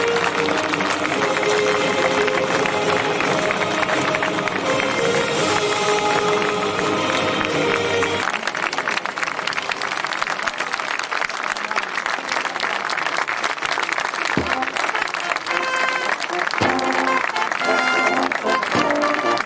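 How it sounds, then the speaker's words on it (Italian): Loud, sustained audience applause for the Lancers of Montebello cavalry at an Italian Army lance carousel display in Montebello della Battaglia, dense clapping filling the whole stretch, briefly louder and fuller at first, with scattered crowd noise. "Facciamolo sentire ancora un applauso ai nostri lancieri di Montebello"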